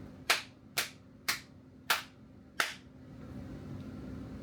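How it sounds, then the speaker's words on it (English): Five sharp, close hand claps land at a steady rhythm of about one every 0.6 seconds, each snapping loudly before a quiet room hush settles in. "Gonna do what I call a clap sync."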